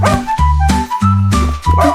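Cartoonish puppy barks bounce through a French children's nursery song. Several bright, rhythmic yaps, evenly spaced, sit over the music.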